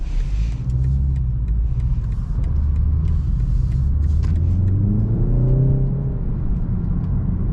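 A 2021 BMW 330i xDrive engine in comfort mode hums steadily at low revs with road rumble, rising slightly in pitch toward the end as the car accelerates gently.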